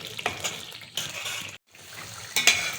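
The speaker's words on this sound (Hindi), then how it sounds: "अभी देखो मेरा ये मसाला भून रहा है" Masala spices frying in oil in a pan for a kofta curry, with a soft sizzle broken by a few scraping stirs of a spoon against the pan, close up and alone.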